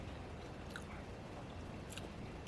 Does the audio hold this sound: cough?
no